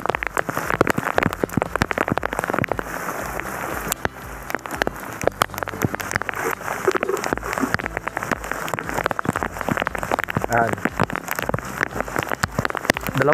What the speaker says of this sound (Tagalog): sobrang lakas ng buhos ng ulan.